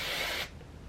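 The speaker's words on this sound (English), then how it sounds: "I just spray more hairspray just to set the look" Hairspray aerosol hissing onto styled, curled hair in one steady broad spray burst of about half a second, fairly close, then cutting off to quiet room tone.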